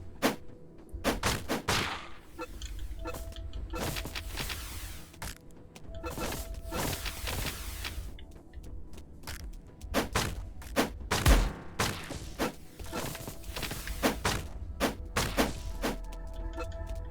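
Gunfire in the video game Undungeon comes as scattered bursts of sharp shots and thuds over a low game background, loud and irregular throughout.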